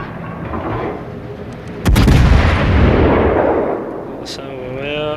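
Cruiser main guns firing high-explosive shells in World of Warships aboard the German cruiser Yorck: a loud, sudden salvo boom lands near two seconds in, then a rolling rumble trails off as game sounds continue.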